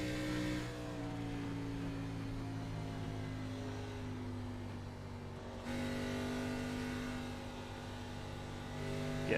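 A race car engine in iRacing at Pocono drones loud and steady with a strong tonal hum, shifting pitch slightly midway through, with no talking over it.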